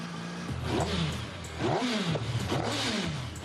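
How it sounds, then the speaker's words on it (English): A motorcycle engine revving in three rising-and-falling throttle bursts, moderately close, with a steady idle between the revs. "It's really nice to know we've got a bike that starts and runs, takes a little throttle"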